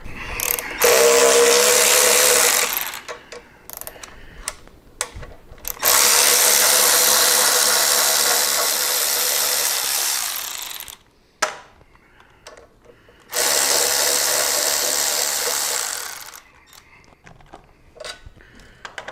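A ratchet wrench clicks rapidly while it loosens the front brake caliper bolts on a Harley-Davidson motorcycle, in three long loud close bursts separated by quieter handling noises.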